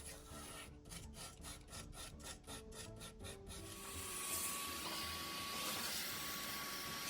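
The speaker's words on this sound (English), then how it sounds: "all the dust, soot and ash around the burner and internally was vacuumed clean" Vacuum cleaner sucking up soot, ash and dust from the burner and interior of a preheater unit on a Hymek D7076 diesel locomotive under restoration, a steady whooshing drone with rubbing, scraping contacts at first, then rising to a louder even roar.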